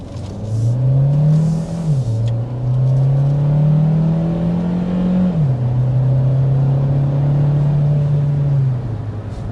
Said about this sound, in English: And that was the acceleration in sport mode.